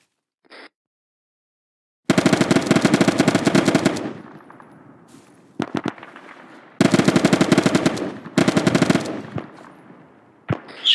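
Arma 3 gunfire: two long, loud bursts of rapid automatic fire, then shorter scattered shots fading out, with silence between volleys.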